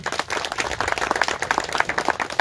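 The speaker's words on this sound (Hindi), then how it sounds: "तो एक बार जोरदार इनके लिए तालियां" Steady, dense applause from a crowd at a training program's closing session, many hands clapping continuously at a lively pace.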